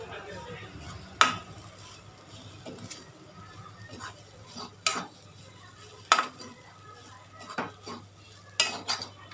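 Vegetables sizzle softly as they are sautéed in a pan while a utensil scrapes and clinks against the metal in irregular strokes, close by.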